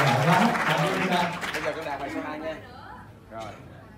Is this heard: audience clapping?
yes